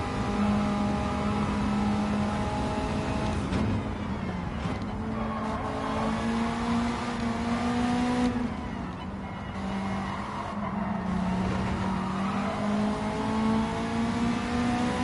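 Racing car engine in a Nations Smurf Leagues sim-racing game revs hard and steadily, rising and falling through gear shifts with brief tire scrubs, loud and close throughout with no talk.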